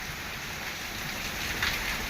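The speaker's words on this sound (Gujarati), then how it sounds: "વરસાદ જોવો આ" Very heavy rain pours down in Porbandar with strong wind, a steady dense hiss of drops drumming on surfaces, loud and unbroken, swelling slightly near the end, with no voices.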